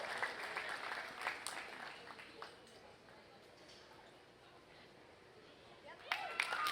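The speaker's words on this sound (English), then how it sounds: "Give yourselves a big round of applause." Applause from the crowd at a junior gilt show, clapping that starts fairly full, thins out into a quieter patter, then picks up again with a few sharp claps near the end; a voice speaks during it.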